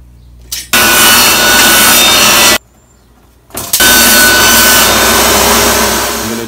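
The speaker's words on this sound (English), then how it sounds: "Now I'm gonna cut this piece of scrap plywood 14 by 26 for the back of the cabinet." A saw cuts through scrap plywood for a cabinet back in two loud, steady passes, each running for about two seconds and separated by a short pause, with no talking.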